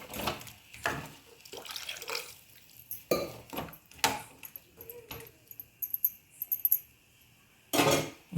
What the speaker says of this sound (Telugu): ఎసరైతే వేసేస్తాను చికెన్ ఉడికేకి